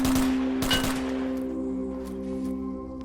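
Submachine gun in Airborne Ranger: FightOut firing a couple of quick bursts up close, followed by a fading metallic ring and low hum.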